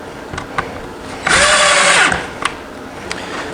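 A power drill drives a screw into a lightweight folding camping table in one loud, close whir of about a second, with a rising then falling pitch, set between soft clicks and handling sounds.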